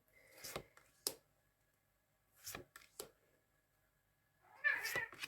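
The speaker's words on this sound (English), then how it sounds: "Oh my goodness me, can you hear my kitty cat? Now you can hear my kitty cat." A cat meows a few times in short bursts separated by quiet pauses, fairly close, with a longer, louder call at the end.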